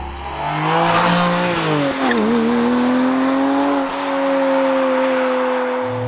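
A Porsche Cayman GTS 4.0 sports car drives with a loud, steady engine note that rises and falls through gear changes, the tone dipping briefly before climbing again and holding smoothly.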